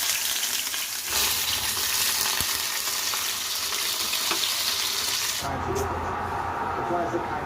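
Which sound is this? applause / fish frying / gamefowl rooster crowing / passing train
fish frying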